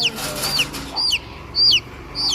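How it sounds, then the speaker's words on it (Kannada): A young chicken chick in a village peeps in a quick series of high, thin chirps, four or five short calls close by over a low background murmur. "ಕೋಳಿ ಮರಿ ನೋಡಿ ಗೈಸ್ ಎಷ್ಟು ಕ್ಯೂಟಾಗಿ ಹೆಂಗಿದೆ ಕೋಳಿ ಮರಿ"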